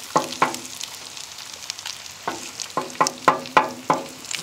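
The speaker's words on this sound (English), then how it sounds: "with the well-seasoned griddle, you got all that bacon grease in there" Bacon frying in its own grease on a well-seasoned camping griddle outdoors, with a run of sharp crackles and spitting pops over a low sizzle, close and moderately loud.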